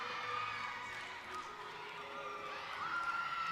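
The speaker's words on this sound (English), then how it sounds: "The teammates really cheering her on here." Teammates cheer a gymnast on through her balance beam routine at a college meet, a distant crowd wash with faint shouts and whoops and a few thuds, with a commentator talking over it.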